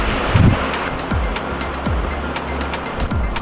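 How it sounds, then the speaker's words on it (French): Strong wind by the sea near the Étretat cliffs, about 100 metres from the water, buffeting the microphone in repeated low gusts with a constant roaring rush and no voices. "avec tout le vent à 100 mètres de la mer"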